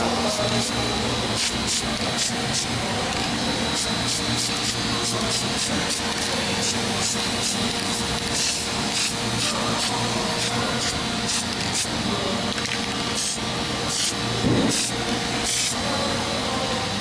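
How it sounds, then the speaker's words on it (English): Gasket adhesive sprayed into the valve cover groove of a 1998 Toyota Corolla: a steady, close hiss of spray runs throughout, with a few faint clicks and handling knocks. "so you spray it in the groove, get it in there, so that the gasket will stick better"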